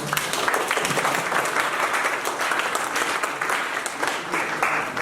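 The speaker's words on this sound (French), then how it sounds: "il faut l'applaudir pour ça" Sustained applause from an audience at a professional integration masterclass, many hands clapping in a thick, even wash with individual claps standing out.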